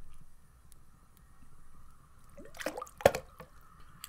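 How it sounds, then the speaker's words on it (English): Water drips and splashes from a bucket in a quiet room, a few soft wet drops and sloshes building to one sharp close splash, then fading into a faint background hum. "Hold on while I get a bucket of water."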